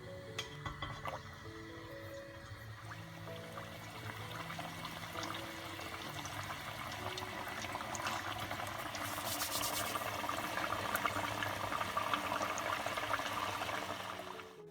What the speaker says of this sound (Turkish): Cannoli hamurları kızartma yağında 165-170 derecede kızartılıyorlar.